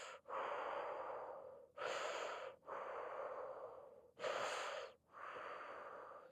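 Deep rhythmic breathing during a fascial exercise class, four long airy breaths in steady cycles with brief pauses between, close and fairly quiet.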